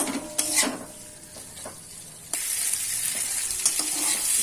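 Chopped beans, carrots, flat beans and a small potato are stirred in a hot pan for a flattened-rice pulao, with a close, steady frying sizzle broken by scraping strokes. The sizzle grows louder and denser midway.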